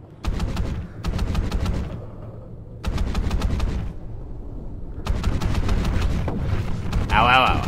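Rapid automatic gunfire rattles in loud repeated bursts in Call of Duty: Ghosts, with sustained firing and someone talking over it now and then.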